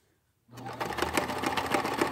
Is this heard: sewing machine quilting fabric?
yes